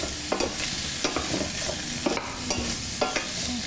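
Food browning quickly in a hot pan, a continuous close sizzle with regular scrapes and taps of stirring every half second or so, no voices.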